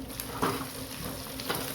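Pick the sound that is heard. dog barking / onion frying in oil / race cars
onion frying in oil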